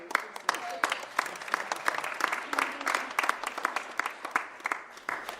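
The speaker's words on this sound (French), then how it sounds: "on va applaudir encore une fois" Audience applause for a performer after her first show, lively uneven clapping from a modest crowd, fairly close, with a few voices mixed in.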